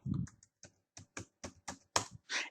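Fingers type on a computer keyboard, close and crisp, a quick irregular run of about a dozen clicking keystrokes with short gaps between them.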